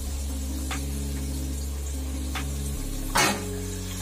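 Tomatoes and cashews tossed into softened onions in a frying pan, with a low steady sizzle over a constant electrical hum and a brief louder crackle as they hit the oil.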